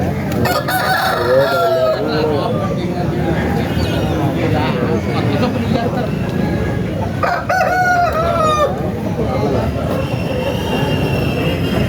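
A rooster crows loudly twice amid a noisy, rumbling background with people talking nearby at a country chicken market.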